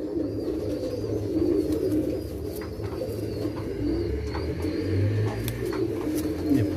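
Red-eyed pigeons in a loft cooing in low, continuous murmuring calls, with a faint chirp here and there over steady background hum.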